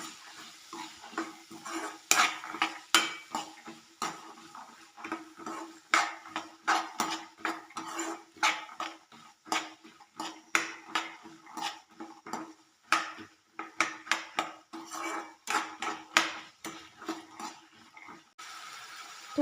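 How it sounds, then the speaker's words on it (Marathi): Black-eyed peas and onions stirred and sautéed in a pan, with a steady run of sharp spoon-on-metal scrapes and clinks in an irregular rhythm, close and moderately loud, faint sizzle underneath, no talking. "चवळी सुद्धा हलवून परतून घ्यायची आहे चांगली।"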